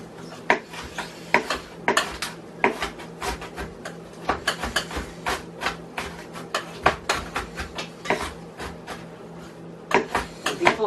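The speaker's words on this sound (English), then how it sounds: "I'm still cooking my meat. It's getting brown. I'm breaking it up so there's no pink pieces." Ground meat for chili browning in a pot as a utensil breaks it up, giving rapid scraping and clacking knocks over a steady sizzle with a faint hum underneath.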